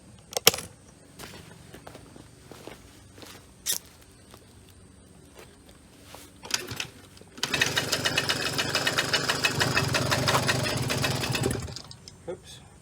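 A 1998 Suzuki JR 50 kids' dirt bike carrying a full-grown adult rider, its small engine buzzing steadily for several seconds as it heads down a road, after a stretch of scattered knocks and clatter.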